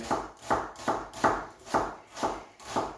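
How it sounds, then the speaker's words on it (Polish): An onion is chopped into small cubes for eel fish soup: about seven steady, evenly spaced knife chops land on a board, close and fairly loud, with no talking. "teraz weźmiemy cebulkę pokroimy ją w taką małą kostkę"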